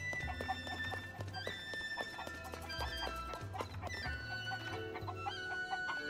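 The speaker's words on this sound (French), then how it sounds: "Ben, qu'est-ce qu'ils ont les poulets, là?" Chickens in Zelda: Tears of the Kingdom cluck in quick repeated bursts throughout, heard over the game's steady musical score.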